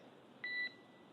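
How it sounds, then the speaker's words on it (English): A single short electronic beep sounds during SpaceX Dragon spacesuit HUD checks on the Polaris Dawn mission, clear and steady over a faint background hiss. "One thing I don't get is why they still use the beeps."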